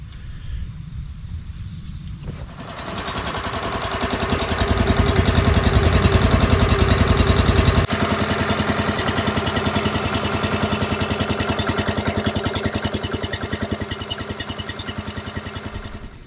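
A Garland Verti Split log splitter's gasoline engine starts after a quiet moment and runs at a steady, loud rumble. The engine is mounted on rubber dampeners and drives a hydraulic system, and no one speaks.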